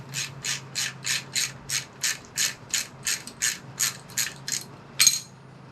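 A ratchet wrench clicks in a steady rhythm of about fourteen quick strokes while loosening a bolt on an early Ford V8 emergency brake in a garage, close and clear with a low hum beneath and no talk.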